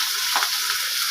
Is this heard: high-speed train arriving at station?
no